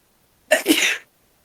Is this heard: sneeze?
yes